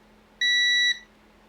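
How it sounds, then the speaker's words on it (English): A multimeter on its continuity test setting emits a single steady electronic beep lasting about half a second, clear and close against a quiet background. "this also has the beeping sound, the beeping connection test setting"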